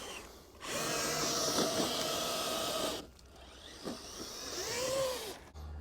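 A tracked RC vehicle with big cleated treads whines loudly as it throttles in a sustained burst, drops off, then rises again with a rising-and-falling motor pitch and some clatter.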